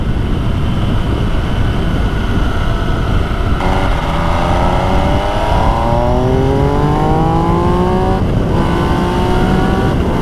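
MV Agusta Brutale 800 motorcycle engine revving loudly and close, rising in pitch through two climbing rev sweeps over a constant roar and wind rush.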